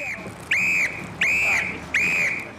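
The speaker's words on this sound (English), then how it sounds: "The whistle is a sign that everyone must get out." Three sharp, shrill evacuation whistle blasts at a fire rescue sound in a regular rhythm, each about a third of a second long, loud over a low background noise.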